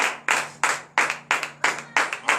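A church congregation at a morning prayer service claps in a steady, loud rhythm, sharp hand strikes repeating about three times per second with a faint sustained tone underneath.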